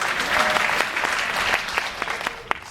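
Audience applause at a film festival interview, a steady patter of many hands clapping at moderate distance that thins out toward the end with a few last scattered claps.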